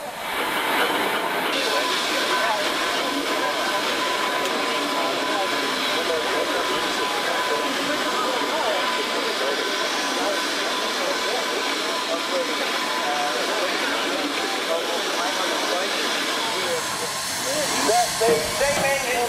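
A loud, continuous hiss of steam from a running steam traction engine working at about 120 psi, with mechanical rumbling throughout and a faint voice near the end.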